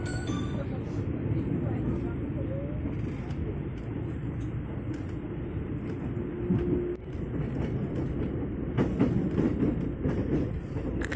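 A Tokyo Metro 6000 series commuter train rumbles steadily at moderate volume, with rail clatter and a brief squeal as it rolls into Serpong station, with speech faintly in the background.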